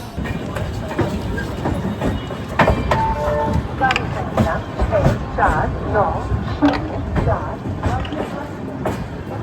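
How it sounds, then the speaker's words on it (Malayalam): Swarna Jayanti Superfast Express rolling into Hazrat Nizamuddin station, with steady rumbling and clickety-clack of coaches over the rails heard from on board, loud and continuous, with a voice talking over it. "നമ്മുടെ സ്വർണ്ണ ജയന്തി സൂപ്പർ ഫാസ്റ്റ് അങ്ങനെ ബിഫോർ ടൈം അടിച്ചിട്ട് നമ്മുടെ ഡെസ്റ്റിനേഷൻ എത്തിക്കൊണ്ടിരിക്കുകയാണ്."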